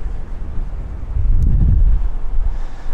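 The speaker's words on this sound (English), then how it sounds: "Oh, here we go with the wind." Gusty wind buffets the microphone outdoors in a new Copenhagen harbour neighbourhood, a low rumbling roar that swells loudest near the middle and keeps blowing steadily with no talk over it.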